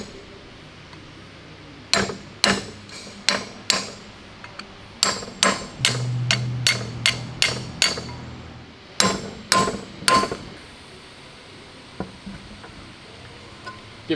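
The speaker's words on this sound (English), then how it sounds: "Give it a knock with the hammer." A hammer knocks on a tool handle in a workshop where a tank model's suspension is being assembled, sharp metallic strikes in uneven bursts, some quick rapid runs, loud and near over a quiet room.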